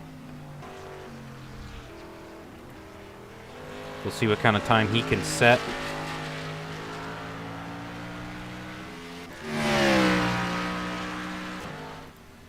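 Race car at Sebring in iRacing: a steady engine drone with a burst of sharp revving shifts near the middle and a louder swelling pass near the end, with a commentator talking over it throughout.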